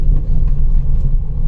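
A car drives along a forest route at night with its high beams on, giving a steady, close, low engine and road rumble that continues without pause, with no talking.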